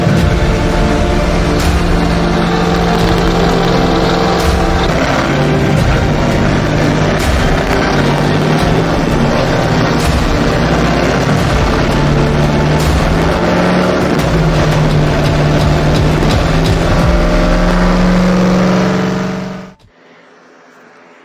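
A Mopar 360 engine runs through its break-in, a loud, steady roar that holds almost unbroken for about twenty seconds before cutting off abruptly near the end.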